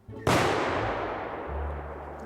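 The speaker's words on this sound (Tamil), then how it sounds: "இப்போ இது இது அந்த விசில் வெடியா?" A whistle firecracker in a fireworks video game bursts with one sudden loud bang that decays into a long, fading rumble, heard alone.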